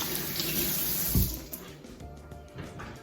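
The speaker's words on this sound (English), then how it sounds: "Didn't mean to get the water going over here." Water runs from a kitchen tap in a steady close rush, with a brief clatter partway through, while spare ribs are being prepared on a barbecue prep counter; no one speaks.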